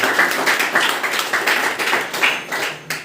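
Audience at a coaching centre ceremony honouring successful matriculation students in Saharghat, clapping steadily in a brisk, continuous round of applause that tapers near the end, fairly close and with no talk.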